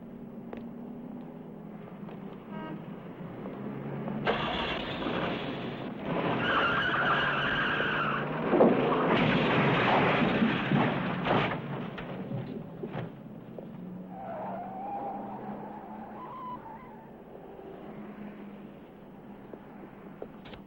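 A car driving with its tires skidding and squealing, a steady engine with screeching tire tones rising in the middle, fairly loud and without talk.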